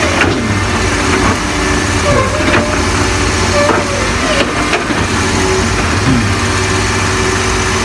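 A six-wheel truck's engine idles at a soil pit as a loud, continuous diesel rumble with faint knocks and clatter over the top.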